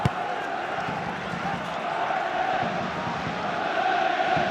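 Dense, roaring football crowd noise at Tynecastle during a Hearts versus Hibs Edinburgh derby, a steady wash of massed voices and chanting that swells slightly toward the end.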